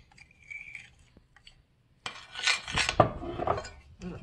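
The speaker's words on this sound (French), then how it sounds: "je mélange bien le tout" Bread dough with sourdough starter, cereals and ancient petit épeautre flour being mixed in a bowl, a close scraping and rubbing burst after a few quiet seconds of faint clinks.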